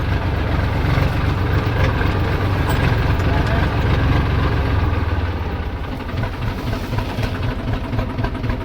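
A farm tractor's engine runs steadily and close by on a rain-damaged rural road near a culvert, a continuous low rumble with little change that softens slightly toward the end.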